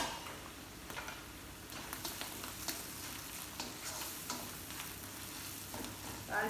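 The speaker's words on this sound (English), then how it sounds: "See here is boiling on the other side." Lobster and mushrooms cooking in a pan, a continuous close sizzle and bubbling boil with scattered light crackles and pops, no talking.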